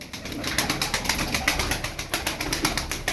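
Çapar tumbler pigeons coo in a steady, repeated rhythm of soft throaty pulses, close by and alone, with no talk.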